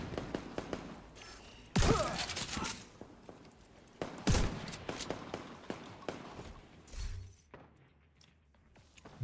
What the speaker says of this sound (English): Different type of shooting.